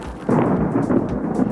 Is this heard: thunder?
yes